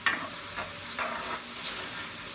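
A shrimp salad mixture sizzles and fries in a pan with a steady, close crackle, punctuated by a few soft stirring scrapes.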